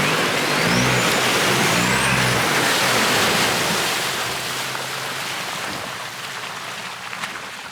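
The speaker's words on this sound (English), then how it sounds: "River crossing number 2." A 4WD vehicle drives through a river crossing in the Victorian High Country, its engine droning under a constant loud rush and splash of water that slowly eases off, with no talking.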